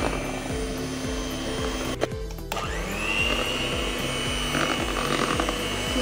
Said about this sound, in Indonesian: Mixer lagi ya, tapi dengan kecepatan terendah aja.